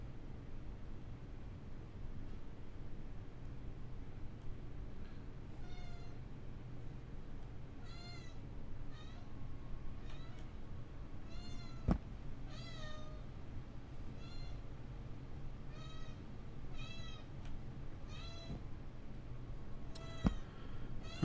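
A domestic cat meows repeatedly in a series of plaintive cries over a low steady hum, fairly close, with a couple of sharp clicks in between.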